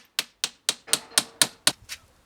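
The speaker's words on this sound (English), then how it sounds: "And then you can use some nails to hammer it into the frame of your table." Seven quick, evenly spaced hammer blows drive nails into the frame of an old garden table, each strike crisp, close and ringing briefly before the next.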